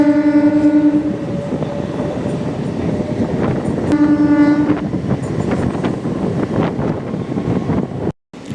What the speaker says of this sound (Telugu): మంచిలి స్టేషన్ నుండి అయితే మన ట్రైన్ అయితే బయలుదేరిపోయింది